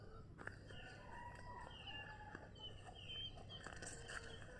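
Free-roaming farmyard chickens cluck steadily while a rooster crows a couple of times, the calls fairly close over a constant outdoor hum with no talking.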